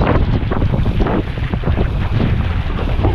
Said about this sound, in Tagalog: Taas ang hangin na.